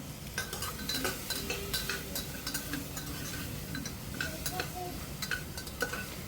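Spoon stirring mutton paya soup with salt in a pot, with repeated light metallic clinks and scrapes against the pot over a soft low background.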